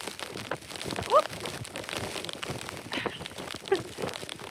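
Rain patters steadily on the ground and on an umbrella along a forest trail near Arlington, with gusty wind rustling through and a few faint crinkling taps, heard close by and fairly quiet.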